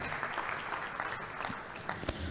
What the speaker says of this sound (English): let's give a resounding applause to all of them for all their contributions